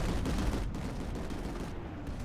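Vehicle cannon fire in the video game Planetside 2 comes as a dense, continuous barrage of loud gunfire, a steady roaring fusillade with no gaps.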